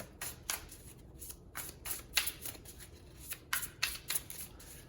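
Tarot cards riffle and shuffle in quick, uneven bursts, soft and close, with no voices.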